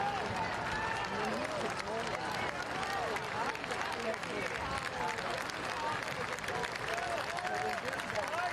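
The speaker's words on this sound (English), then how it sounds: "And you hear the scattered applause around the ground." Scattered applause from the crowd around a soccer stadium during a Portland Hearts of Pine versus South Georgia Tormenta FC match, a distant, diffuse clapping mixed into steady crowd noise, with a commentator talking over it.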